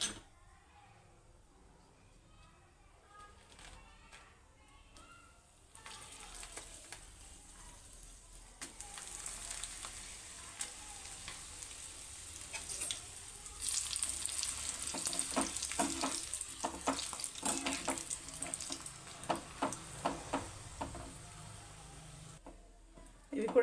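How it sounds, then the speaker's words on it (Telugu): Dried curd chillies are fried in hot oil, a quiet sizzle that grows louder and busier midway with dense crackling and stirring, and some talking is heard over it. "నెక్స్ట్ చల్లమిరపకాయలు వేయించుకుందాం."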